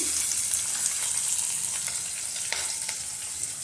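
Onion, green chillies and curry leaves frying in a hot tempering, a steady close sizzle and crackle with faint stirring scrapes, no voices.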